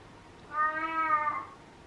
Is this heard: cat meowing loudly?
yes